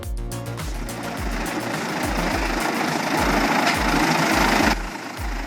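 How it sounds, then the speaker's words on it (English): A wood chipper's 780 horsepower Cat engine running loud and close, a heavy diesel drone with a steady, repeating low thumping pulse throughout, as the machine shreds big logs. "The 780 horsepower cat engine must be a monster."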